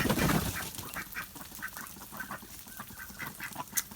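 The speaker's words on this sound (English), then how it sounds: "So here are the ducks." Ducks outdoors on a snowy, rainy morning in Newfoundland quack repeatedly in a rapid, chattering series, fairly close and moderately loud, with rain and wind noise beneath.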